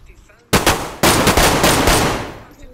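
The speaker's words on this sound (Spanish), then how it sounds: "Disparando." Rapid gunfire in the DayZ video game on the Livonia map, two loud bursts of close automatic shots cracking in quick succession, the second burst longer and tailing off into a fading echo.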